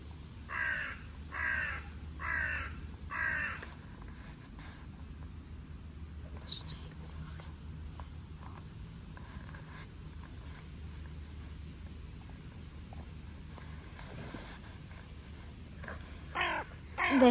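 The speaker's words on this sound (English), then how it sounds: "The hand-eating crow is there, and he doesn't want to come over here where there's a bigger prize." Crows cawing nearby in four loud, evenly spaced calls at the start, followed by quieter outdoor ambience, scattered faint caws and soft whispered speech.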